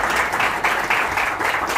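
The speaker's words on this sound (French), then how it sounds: "Applaudissez très fort pour vous." Applause rises for young football candidates gathered for the second season of a televised youth soccer talent competition, a steady wash of many hands clapping at moderate volume with no talk over it.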